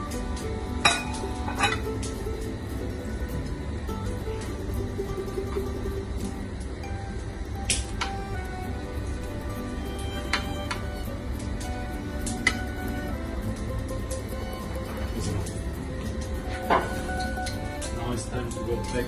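Roast potatoes are stirred in a hot pan, with scattered metallic clinks and scrapes of a utensil against the pan over a constant low kitchen rumble.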